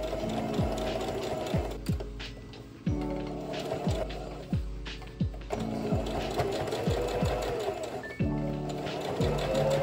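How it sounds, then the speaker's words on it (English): A sewing machine stitches fabric for a dress made from a bedsheet, running in loud, rapid bursts with brief pauses, its needle thumping rhythmically close by. "before I go to my machine and sew"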